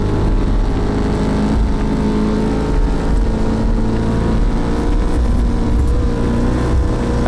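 A big-wheeled car races off the roadside at high speed in the desert, its engine roaring loud and close in a steady, unbroken drone across the whole stretch.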